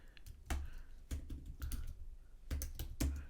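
A computer keyboard is typed on in quick, light bursts of clicks, close and quiet, with short pauses between the groups of keystrokes.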